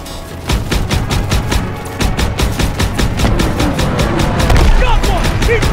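Rapid, loud automatic gunfire rattles without a break in a World War II battle from Call of Duty WW2, close, dense bursts with faint shouted voices underneath.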